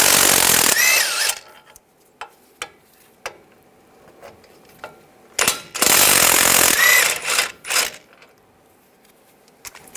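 Power impact tool spinning out 21mm bolts from the back of a front brake backing plate on a 2011-2018 Ram 1500, two loud bursts of whirring rattle separated by short clanks and taps.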